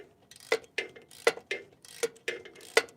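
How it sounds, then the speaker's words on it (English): A hand ratchet tightens four bolts in a shop, clicking in a quick, regular series of sharp close strokes about a quarter second apart, with faint ringing metallic ticks between them. "now it's just a matter of tightening up these 4 bolts"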